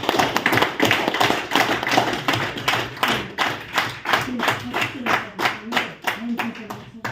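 An audience at a literary gathering in a writers' library in Almaty, Kazakhstan, claps in steady rhythmic unison. The sharp hand claps sound close and loud and continue throughout.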